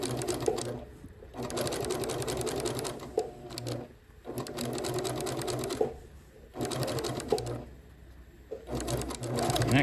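Sewing machine stitching bias tape onto a fabric bowl cozy, several loud close whirring runs broken by short pauses, with faint background sounds between bursts.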